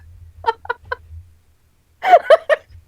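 Pigeon-like clucking coos from a bird in a video game, two short clusters of three calls each, close and clear against a quiet low hum.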